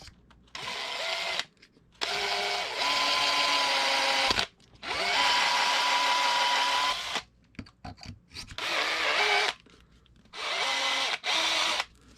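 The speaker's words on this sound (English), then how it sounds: "I need to drill middle hole." An electric drill runs in several long bursts separated by short pauses, its motor whining and straining as it bores a hole for an RC car wing mount, close and loud.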